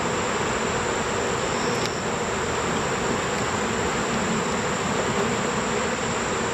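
Honey bees swarm and buzz around an opened beehive as a top super is lifted, a dense steady drone filling the air close by, with no talking.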